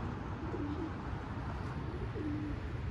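Domestic pigeons cooing softly outdoors, a couple of low rolling coos over a constant background rumble.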